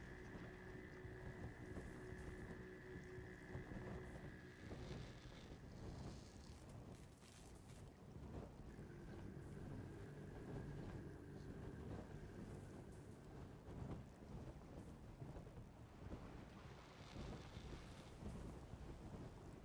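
Wind blows at sea in the Windbound video game, a faint continuous rushing with soft gusts and a low hum throughout.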